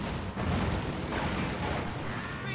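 Dense, continuous battlefield din in a real-time strategy game, with rapid MG42 machine-gun chatter and booming mortar impacts layered over a constant rumble, loud and without voices.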